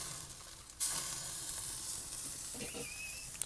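Korean beef short ribs (galbi) sizzle steadily on a hot grill, a close, continuous frying hiss that swells sharply partway through as the meat is turned onto its ends, with no voices.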